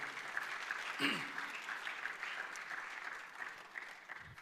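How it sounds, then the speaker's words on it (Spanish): Church congregation clapping together during a worship service, a steady dense patter of many hands at moderate level with a brief louder burst near the start and faint voices mixed in. "démosle palmas al Señor"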